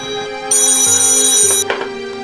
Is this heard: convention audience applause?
no